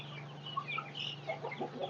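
Rhode Island chickens cluck softly nearby in a short run of quiet, uneven clucks over a faint steady hum.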